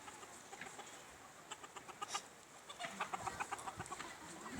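A small rooster clucks in a series of short, quick calls against an outdoor background hum, moderately near and fairly quiet.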